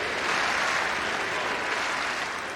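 A tennis crowd applauds steadily for Justine Henin, a dense wash of clapping that holds at an even level from start to finish.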